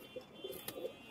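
Pigeons cooing at a seller's place, a few soft, low, muffled coos, faint and brief, with no one speaking.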